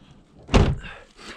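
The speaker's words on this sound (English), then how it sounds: "Now, I'll shut this door." A door is shut once with a single short, solid thunk, close and fairly loud, followed by faint room noise.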